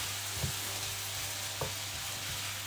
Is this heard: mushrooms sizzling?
yes